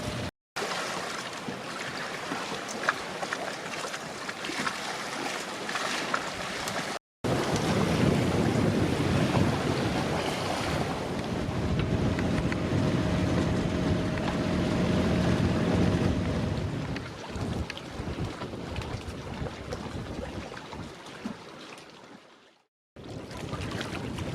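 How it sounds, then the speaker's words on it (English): Strong wind roars across the microphone aboard a sailboat at sea, a loud continuous rushing gust mixed with waves. It drops out in brief gaps and eases near the end. "we've got wind, unfortunately it's directly on the nose"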